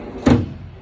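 A large storage drawer in a 4x4 build slides shut and lands with a single solid thump, close and loud, over low steady background noise.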